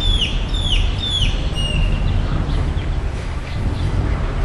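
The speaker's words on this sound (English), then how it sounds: "the bird's trying to kill me." A chicken clucking close by with repeated sharp calls in the first couple of seconds, then fading into a steady, noisy outdoor background.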